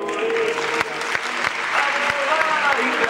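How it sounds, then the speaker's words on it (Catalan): Audience at a Cullera basketball club team presentation clapping for the youngest Baby Bàsquet group, a dense burst of applause with some sharp individual claps and a voice speaking over it. "els rebrem amb un fort aplaudiment"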